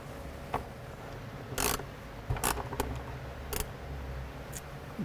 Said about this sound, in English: we're gonna remove the bolts that hold down the convertible top latch